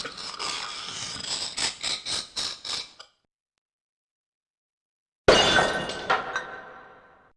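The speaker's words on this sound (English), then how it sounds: "I smashed the toy urn into tiny pieces, and inside was the golden sword." Glass breaking and a toy urn smashed in the Discworld Noir video game: a rapid run of sharp cracks and crunching blows, then a gap of silence, then a bright shattering burst with tinkling fragments.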